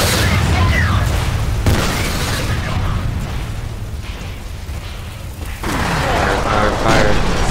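Grenade explosions in the shooter video game F.E.A.R., heavy booming blasts and bursts that fill the whole clip loudly, with dense rumbling game noise and a voice speaking over the top.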